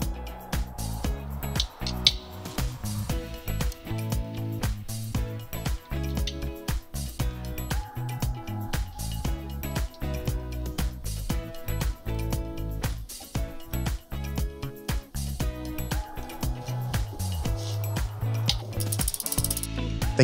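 Repeated ratcheting clicks from a tool turning the adjustment screws on a bicycle mechanical disc brake caliper, a dense, steady run of close mechanical ticks filling the whole stretch with no talk.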